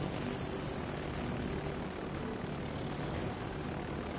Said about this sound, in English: Launching bombers!